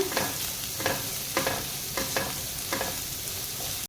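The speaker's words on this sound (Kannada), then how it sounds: "ಈ ಥರ ಆನಿಯನ್ ಹಾಕ್ಕೊಳ್ಳಿ ಆಯಿತಾ ಚೆನ್ನಾಗಿ ಫ್ರೈ ಮಾಡ್ಕೊಳ್ಳೋಣ" Onions frying in a pan for gobi manchurian give a continuous close sizzle, broken by four or five regular stirring scrapes about half a second apart.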